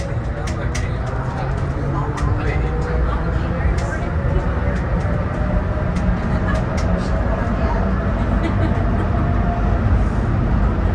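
The Denver airport automated train between the C and A gates makes a smooth start, its motors producing a steady, loud rumble and hum that carries through the cabin with no break.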